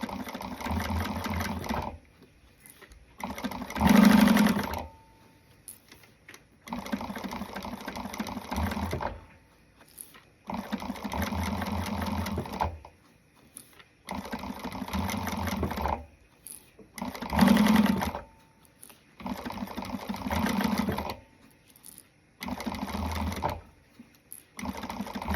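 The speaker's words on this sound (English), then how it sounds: "going to do a back stitch at the beginning of the end" A sewing machine stitches a fabric wristlet in repeated bursts of several seconds each, separated by short pauses, with steady close whirring and no talk.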